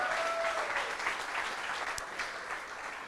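Audience applause at a city council campaign launch event, a dense steady wash of clapping that fills the clip and fades slightly toward the end.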